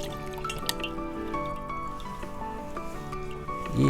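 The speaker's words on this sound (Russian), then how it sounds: "Сливаем воду с сухофруктов с наших." Soaking water is drained off dried apricots and raisins, making a close, continuous trickle with scattered drips and splashes, a little louder near the end, with no speech.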